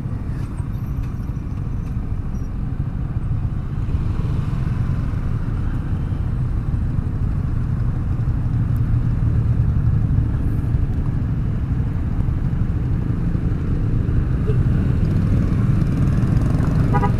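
A motorcycle riding through the city at night makes a continuous low engine rumble and road noise that builds slightly in intensity over about seventeen seconds.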